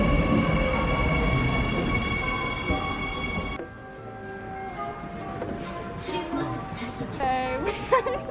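A subway train arrives at a Seoul station, a loud rumbling approach with a high whining tone that cuts off abruptly, then quieter platform noise with rising electric whines and squeals from the slowing train.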